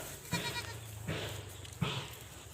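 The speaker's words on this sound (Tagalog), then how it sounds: "Mga kambing natin nakawala." Loose goats bleat near their pen, three separate close, loud bleats spaced evenly apart.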